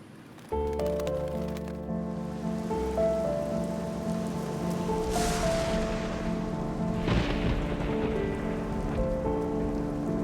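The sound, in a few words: rain falling on the city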